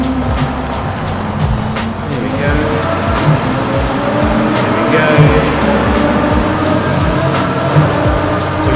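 A 1200 hp twin-turbo Lamborghini Huracan STO in Forza Horizon 5 drones and revs steadily, its engine tone climbing and falling in repeated sweeps, loud and close, while someone speaks briefly over it.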